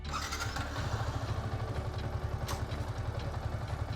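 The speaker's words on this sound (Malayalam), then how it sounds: "അതിനുവേണ്ടി മോട്ടോർ സൈക്കിൾ ഒന്നും കൂടെ സ്റ്റാർട്ട് ചെയ്യാം." A motorcycle engine runs steadily close by with a rapid, even putter and some mechanical clatter, ahead of cleaning its chain.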